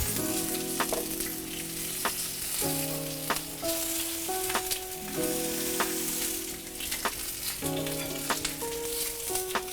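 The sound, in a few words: eggplant sizzling on a hot grill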